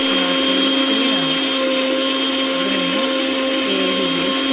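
A mixer grinder runs steadily, grinding onion, with a continuous loud motor whine and buzzing blade churn that holds even throughout, with no talking.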